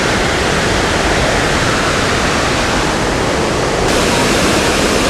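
A loud, constant roar of a waterfall in North Carolina, a dense, unbroken rush of falling water heard up close with no voices.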